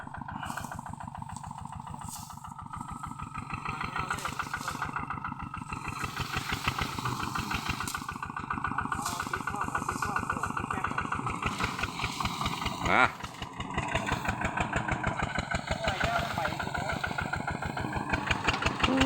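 A single-cylinder engine runs at the work site with a rapid, even chugging beat, loud and close, rising slightly partway through, while someone talks over it.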